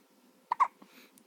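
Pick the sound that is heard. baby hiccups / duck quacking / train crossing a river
baby hiccups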